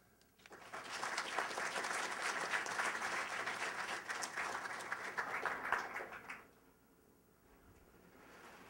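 Sustained applause from a lecture audience welcoming a speaker to the podium, steady and full for several seconds before tapering off abruptly into near quiet.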